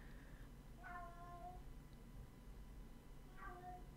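Cat meowing twice, two short distinct meows spaced a few seconds apart, fairly faint against a quiet room background.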